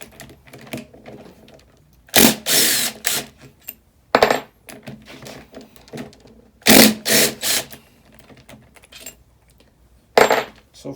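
Ratchet socket wrench working the engine bolts on an XR250L teardown: bursts of rapid clicking ratcheting, close, in several separate spurts with quiet gaps and faint handling noise between.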